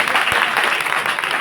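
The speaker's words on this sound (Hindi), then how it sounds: "जोर से ताली बजाकर प्रभु की स्तुति करें।" A church congregation clapping together in praise, a dense burst of many hands applauding loudly and continuously at close range.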